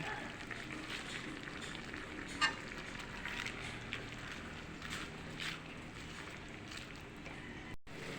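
Anchovies frying in a pan with pechay just added: a faint, continuous sizzle and crackle heard from a short distance, holding steady throughout with a few small bumps.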